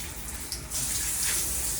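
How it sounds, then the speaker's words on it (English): A handheld shower head sprays water at higher pressure in a downstairs Airbnb bathroom being cleaned, a steady loud hiss of spray that grows fuller partway through and keeps going without talk. "turn the water on. You can turn it to a little bit more higher pressure."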